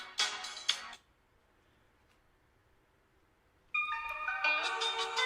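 A phone ringtone plays in two bursts, a short melodic burst at the start and a louder, sustained tonal melody returning after a near-silent gap of nearly three seconds, with no talking over it.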